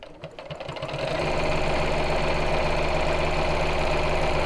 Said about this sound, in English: So I'm just sewing this down there